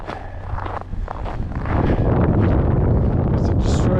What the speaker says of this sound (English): The always windy summit.